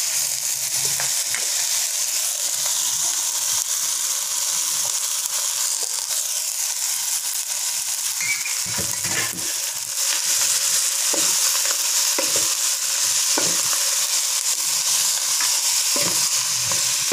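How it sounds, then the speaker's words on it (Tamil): Moringa leaves hit a hot pan with turmeric and are stirred, a loud steady sizzle and frying hiss throughout with repeated scraping stirs of a spoon against the pan. "இப்போ கீரையை போடுறோம்."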